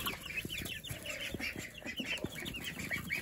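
Young chicks cheep and cluck in a busy, overlapping chatter, repeated soft calls with scratching and rustling from a small indoor flock, steady and moderately close.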